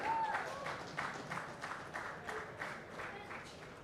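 Applause from the crowd at a golf prize ceremony for a tournament winner, fairly distant and soft, a continuous patter of many hands with a faint voice over the start.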